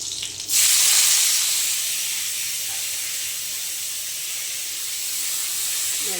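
Fresh, washed and chopped leafy greens hit hot oil seasoned with black cumin and a green chili, giving a loud, sudden burst of sizzling that settles into a steady, close hiss.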